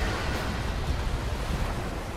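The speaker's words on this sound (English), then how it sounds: "multiple waves batter the inside of the cavern" Water waves surge and batter inside a flooded cave, a dense continuous roar of churning water with no distinct breaks, steady and moderately loud.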